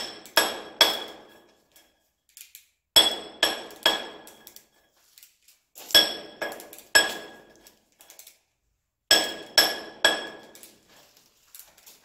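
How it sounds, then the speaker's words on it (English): Ringing metal-on-metal hammer strikes on a hand drill steel being driven into rock at a mine museum, in groups of three or four separated by pauses, close and loud with a bright clanging tone. "Find a good spot for my drill steel. And hammer myself a hole."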